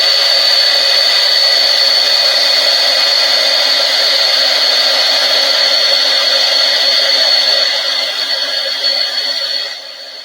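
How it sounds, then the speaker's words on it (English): A handheld heat tool blows steadily and loudly at close range with a constant whirring hiss while heat-setting embossing powder on a card, easing off slightly near the end. "I'm going to go ahead and heat set this with my heat tool."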